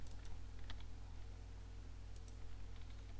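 Faint, scattered computer mouse clicks while modding Gothic 1, a few soft ticks spread across a constant low electrical hum, with no speech.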